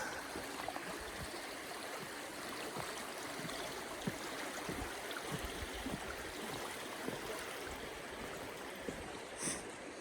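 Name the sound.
running water of a creek beneath a log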